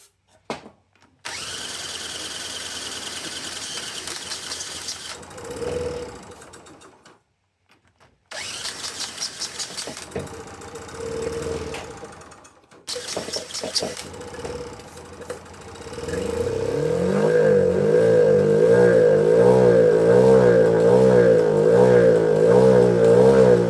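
Honda C70 Passport motorcycle engine under repair with freshly set points, cranking in several loud bursts before catching and settling into a steady running idle, close by.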